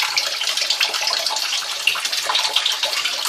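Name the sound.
water washing chicken pieces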